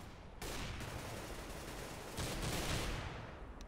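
Gunfire in Counter-Strike comes through as a dense, continuous rattle of rapid shots at moderate level, swelling louder toward the end with no talk over it.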